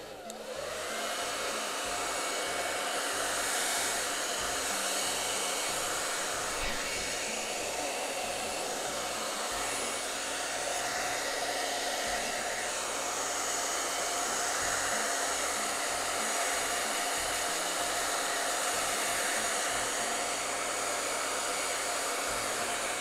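A hair dryer blows at high speed to dry and fluff a tanned squirrel fur, a loud, continuous close-up whoosh and motor whine that holds steady throughout with no talking.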